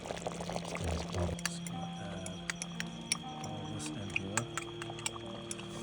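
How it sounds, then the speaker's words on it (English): A chicken coconut curry with organic coconut milk and chili peppers cooks in a pot at a campsite by Oak Creek in Sedona, Arizona, giving soft liquid squishing and small popping clicks under a steady background hum. "And this thing is bubbling right now."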